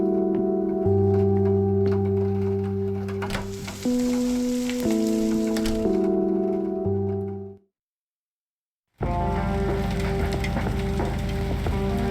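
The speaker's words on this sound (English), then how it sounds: "There's nothing quite like the soothing sound of rain falling on a window." Steady rain pattering against a window in the game Kathy Rain over a droning musical backdrop; everything drops to silence for a moment before the rain and music return.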